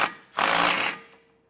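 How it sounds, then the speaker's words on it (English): A power socket tool snugs bolts on an air helper spring bracket on a 2024 GMC Sierra: a short whir, then a loud sustained burst of about half a second that fades out. "take a 7/16 socket and come through and just snug each one of these down"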